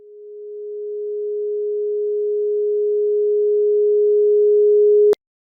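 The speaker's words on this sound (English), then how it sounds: "you have a sound that's increasing in loudness" A steady pure sine tone holds one pitch while swelling gradually from quiet to loud over about five seconds, then cuts off abruptly with a click, heard alone with no talking.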